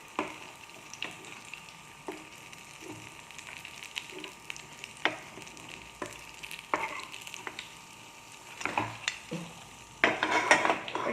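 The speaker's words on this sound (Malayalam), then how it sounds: "ഇനി ബാക്കിയുള്ളതും കൂടി ഞാൻ ഫ്രൈ ചെയ്തെടുക്കട്ടെ" The last batch of pieces fries in hot oil with a constant soft sizzle. A utensil stirs with repeated clinks and scrapes against the pan, which grow busier and louder toward the end, with no voices.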